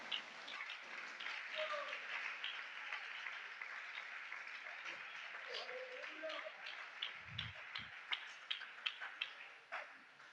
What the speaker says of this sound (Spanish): Un aplauso para Él en esta mañana.